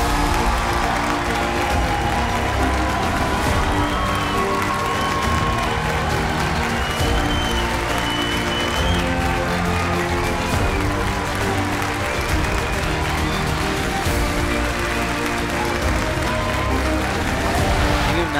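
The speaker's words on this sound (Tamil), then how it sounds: "ஸோ டாக்டர் தமிழிசை சவுந்தரராஜன் அவர்கள் அரங்கம் நிறைந்த கைத்தட்டலோடு இந்த மேடைக்கு வர இருக்கின்றார்." A large audience at a Tamil stage event claps steadily and loudly, a continuous wash of applause under music, lasting throughout without pause.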